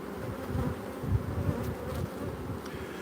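Honey bees buzzing around backyard hives that are still being fed sugar syrup, a dense low drone of many insects nearby, swelling and fading slightly, with no voices.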